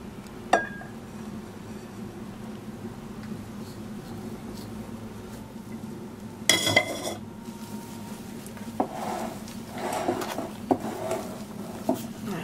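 Henna powder, 100 g of Rajasthani henna, being stirred in a bowl with a glass, giving soft scraping and clinking strokes, then a sharp burst of clatter midway followed by irregular knocks against the bowl.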